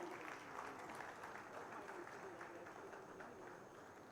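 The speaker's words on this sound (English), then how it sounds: "A big round of applause." Audience applause at a global summit honoring a guest, a faint but continuous crowd clapping heard from a distance, with voices murmuring underneath.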